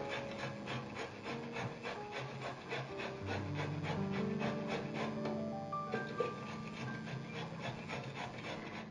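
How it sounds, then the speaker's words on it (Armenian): Raw zucchini is rubbed across a coarse grater in an even rhythm of close, repeated rasping strokes, with a quiet hum underneath and no talk. "մոտ ենք բերում քերիչը և ցանց և դդմիկը քերում ենք խոշոր քերիչով ցանցի վրա։"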